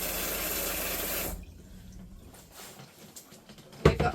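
Water from a caravan tap runs loudly into a sink for over a second and then stops abruptly, followed by quieter drips and a sharp clatter near the end.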